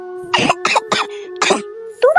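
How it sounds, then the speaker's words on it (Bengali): A cartoon character with whooping cough, voiced by a performer, coughs in four or five loud, harsh, close bursts, then gives a short rasping throat sound. "আমার এটা হুপিং কাশি দুদিন কাশতে কাশতে ঠিকই ভালো হয়ে যাবে"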